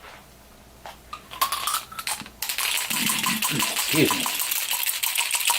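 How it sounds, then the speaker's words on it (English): Dice rattle and clatter for an APBA Golf tabletop game, a burst of sharp clicking tumbles that settles after a couple of seconds, close up, after a short spoken remark. "As I send the dice flying"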